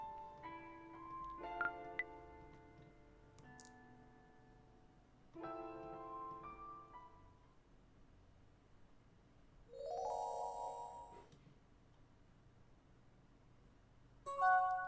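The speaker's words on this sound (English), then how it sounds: "the sound of a text message wakes me from my peaceful slumber" A short electronic notification chime from a dating video game rings out at about ten seconds, clear and close over a soft game music bed, with another brief chime near the end.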